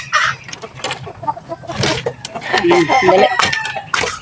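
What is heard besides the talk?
chickens clucking at feeding time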